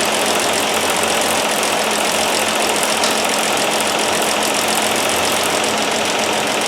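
A 1969 Land Rover Series 2a six-cylinder engine runs steadily, a loud, dense, unbroken idle with a rough mechanical clatter, heard close up with no talk.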